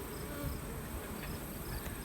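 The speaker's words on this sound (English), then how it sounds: "These boxes are nicely full of bees." Bees in full beehive boxes make a steady, dense buzz that stays close and even throughout, with no talking over it.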